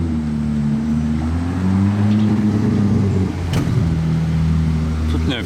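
A green Porsche 911 GT3 RS of the 992 generation drives past, its engine note a steady low hum that rises slightly as it passes close by, with a brief sharp noise midway and voices in the background.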